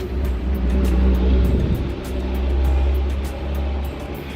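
A vehicle engine rumbles steadily outside, with low droning swells as it passes, heard alone without talk.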